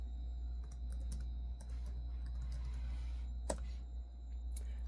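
Typing on an old keyboard attached to a 16-year-old computer, scattered light clicks and taps at an irregular pace over a steady low electrical hum.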